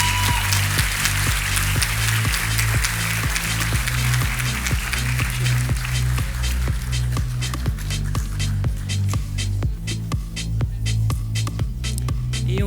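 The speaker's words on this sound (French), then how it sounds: "sous les applaudissements de l'amphithéâtre." Applause rings through a lecture hall at a master's graduation ceremony, sharp claps spread across the clip over a loud, steady low hum with rhythmic throbbing.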